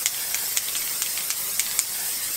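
A luxury makeup setting spray hisses out in a run of quick, close pumps, each burst a sharp airy spritz in a steady rhythm.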